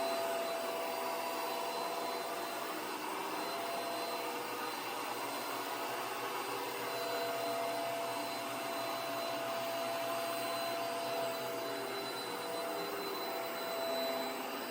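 A carpet extractor cleaning machine runs a rinse pass, its loud, steady motor and suction whine droning close and unbroken throughout.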